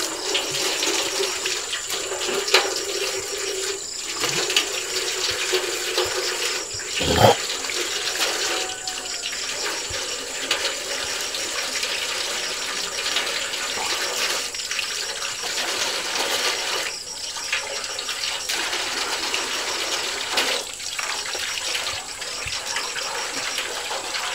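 Spring water from under a large rock pours steadily from a pipe in a continuous splashing gush, close by, with a few small knocks and clinks over the flow.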